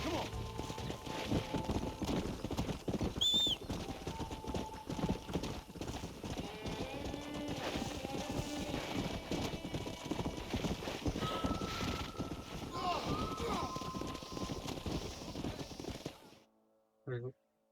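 Horses clip-clop steadily across the ground in the Western video game Red Dead Redemption, with a whinny and a low horn-like tone now and then, beneath ongoing game dialogue before it cuts to near silence at the end.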